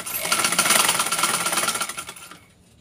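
Sewing machine stitching fabric for a trouser pocket, a fast steady rattling run that lasts about two seconds and then stops, leaving near silence.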